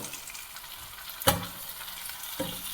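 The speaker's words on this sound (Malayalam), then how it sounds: "നമുക്ക് തക്കാളി ഇടാം ഗൈസ് നമുക്ക് ഇളക്കി മിക്സ് ചെയ്യാം" Tomatoes sautéing in a pan for fish curry, a soft steady sizzle with two sharp scraping stir strokes, one sharp and one fainter, and no voices.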